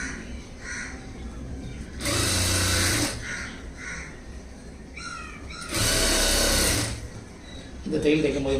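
Two bursts of a sewing machine run steadily for about a second each, stitching a lining blouse, with quieter stretches of handling noise and a crow cawing between them.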